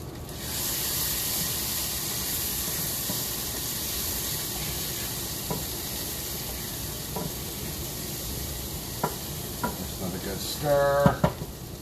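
Food frying in a pan is stirred and scraped, with a steady close sizzle running throughout and a few clinks of the utensil near the end, no voices.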